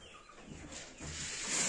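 Young roosters in a village coop cluck faintly and softly nearby, the sound growing somewhat louder toward the end, with no voices present.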